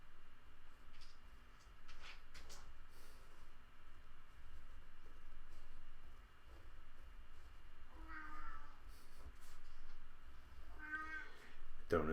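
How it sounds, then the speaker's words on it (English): A cat meows a few times in the distance, faint and muffled, with quiet background noise and a little talking around it. "Don't know if you can hear my cat meowing,"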